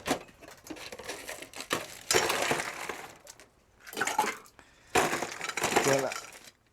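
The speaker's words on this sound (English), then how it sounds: "So we're going to completely fill that with ice." Ice cubes tumble into a cocktail shaker tin for a spiced rum cocktail, two bursts of clattering, crunching clinks a second or two long with a brief lull between, close and fairly loud.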